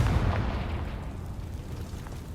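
The Confringo fire spell in Hogwarts Legacy goes off as a heavy, booming burst up close, then the roar slowly decays into a rumbling tail.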